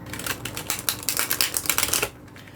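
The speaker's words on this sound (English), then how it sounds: "one more shuffle and then we will cut the deck" Tarot cards are riffled and shuffled in a rapid, close, papery flutter of snapping edges lasting about two seconds before cutting off.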